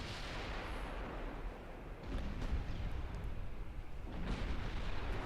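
Naval guns fire on ships in the Ultimate Admiral Dreadnoughts warship game, heard as a dense, continuous low rumble of distant bombardment that swells louder partway through, with no clear single shots.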